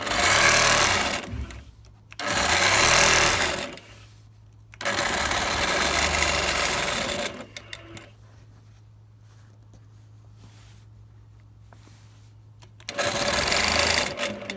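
A longarm quilting machine stitches binding onto a quilt in several loud, close bursts of rapid whirring, separated by quieter pauses with a low hum.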